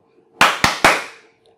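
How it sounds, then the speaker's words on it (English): Three sharp hand claps in quick succession for an acoustic measurement, each a crisp loud crack with a short decaying ring in a quiet room. "Bernard, are you ready to clap your hands?"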